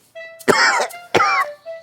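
Two harsh, close coughs about half a second apart, each followed by a faint wheezy breath.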